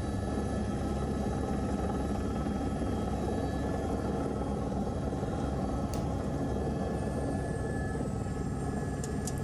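A helicopter landing makes a constant, loud rotor and engine drone that stays steady the whole time, with no talk over it.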